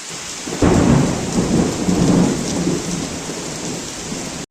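Heavy rain pours steadily in a village in Odisha, India, while a deep rumble of thunder rolls in and swells, then slowly fades under the downpour.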